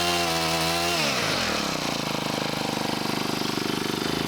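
A restored hedge trimmer's small two-stroke engine revs high, then drops to a rapid, buzzing idle with a steady pulsing rattle, loud and close with no talk.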